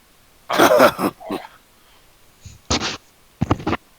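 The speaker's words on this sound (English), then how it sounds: "I'm just gonna cough nervously." A few short, close throat-clearing coughs come in separate bursts, with brief pauses between them.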